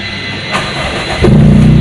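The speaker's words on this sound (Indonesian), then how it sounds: "Nah, kita langsung nyalain saja mesinnya. Toyota Twin Cam GTI." A Toyota Corolla Twincam GTI 1.8 with an aftermarket exhaust starts up: a short crank gives way to the engine catching around the midpoint and settling into a loud, steady idle.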